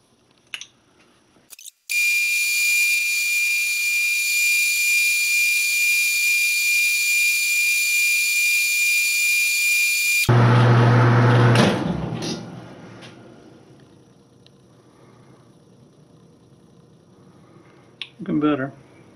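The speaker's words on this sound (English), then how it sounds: "I'm thinking I might put it up in the middle and run a round fluted end mill into there." A round fluted end mill cuts into a Logan Model 1925 lathe tailstock during refurbishment. After a few clicks, a loud steady high whine runs for about eight seconds, then a harsher burst of cutting before it winds down and a few handling clatters follow.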